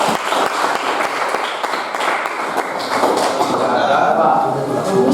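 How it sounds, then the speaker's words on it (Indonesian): A classroom group in a physics lesson gets a round of applause, with scattered clapping and taps rising under ongoing talk from a nearby voice. "sekali lagi kita beri aplaus dulu buat kelompok kita ya"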